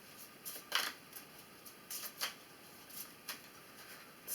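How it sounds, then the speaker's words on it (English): Tarot cards being shuffled in short, irregular riffling bursts, close and fairly quiet, with brief pauses between each flurry. "So let's go ahead and shuffle your cards and we'll begin."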